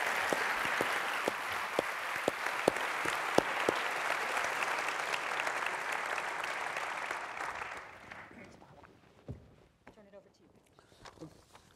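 An audience at Harvard's Kennedy School claps for World Bank president Robert Zoellick, a dense, sustained round of applause that fades after about eight seconds into a few scattered claps and footsteps.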